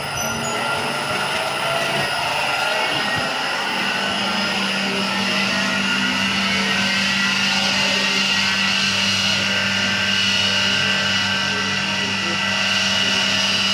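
A digitally controlled PMSM electric motor runs at 3000 rpm with a constant, loud electric whine and hum. The steady tones stay even throughout, with a low drone underneath.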